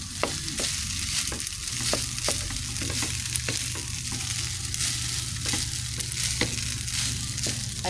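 Fried rice sizzles steadily in used cooking oil in a pan, a loud continuous fry broken by repeated scraping stirs of a spatula at an uneven rhythm.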